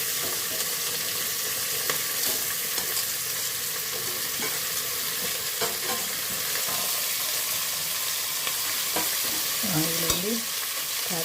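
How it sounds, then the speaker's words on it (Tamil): Chopped vegetables stir-fry in a pan for a chana dal vegetable kootu, filling the clip with a loud, continuous hiss and crackle plus occasional faint stirring scrapes. "நல்லா பிரிஞ்சு வரும்போது வெட்டி வச்சுருக்க காய் எல்லாத்தையும் போட்டுடலாம்"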